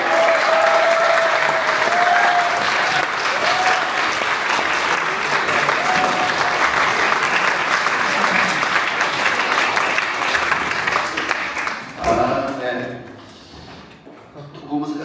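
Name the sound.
audience applause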